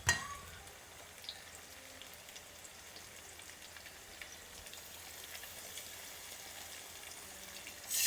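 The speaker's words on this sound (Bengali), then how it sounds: "এবার ভালো করে মশলাটা কষে নেব।" A masala of tomato, ginger, garlic, cumin, coriander, chili and turmeric fries in a pan with a soft, steady close sizzle, fairly quiet throughout.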